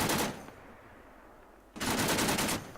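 A 12.7mm vehicle-mounted machine gun in a video game fires two loud, rapid bursts of shots, separated by a short pause filled with low rumble.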